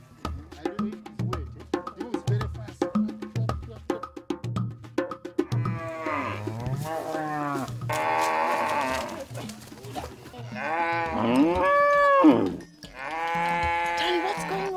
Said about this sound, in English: I heard these noises from the cows, man.